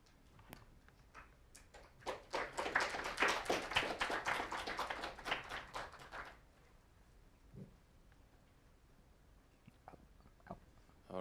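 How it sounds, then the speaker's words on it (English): A small conference audience claps after a talk, a thin burst of scattered hand claps swelling for a few seconds and then dying out, followed by faint taps and quiet room noise. "The audience already gave the final applause."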